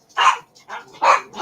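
A dog barks in a few loud, close bursts, with short gaps between them.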